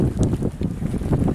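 Wind gusting over the microphone aboard a yacht under sail off France in a northerly breeze of about ten knots, a close, low rumbling buffet that rises and falls for a moment.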